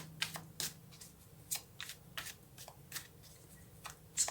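Tarot cards shuffled close up: a steady run of soft riffling flicks and slaps, repeated in quick bursts, quiet and intimate with no talking.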